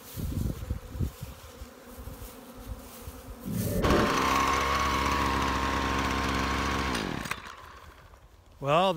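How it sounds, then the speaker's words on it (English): A string trimmer cuts through a spring yard, its loud motor buzzing steadily for several seconds in the middle before cutting off, with quieter engine noise and some talk around it. "Weed whipping a spring yard as opposed to snow blowing a spring yard."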